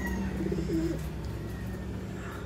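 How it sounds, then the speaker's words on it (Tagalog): Soft, low pigeon coos repeat near the start over a steady background hum at a garden in Masbate, Philippines, then fade into ambient noise. "Kalapati dito ah."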